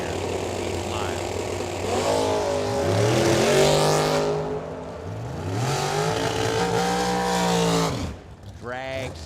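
Drag racing cars roar down the strip at Firebird Motorsports Park, two loud passes building and sweeping by in turn, with a track announcer's voice around them.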